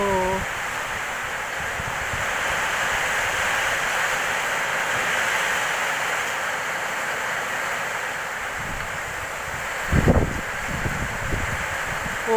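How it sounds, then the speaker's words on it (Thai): Strong wind during a rainstorm roars steadily in a constant broadband rush, with a few louder gusty bumps near the end. "ฝนไม่เท่าไหร่ครับ แต่ลมแรงมาก"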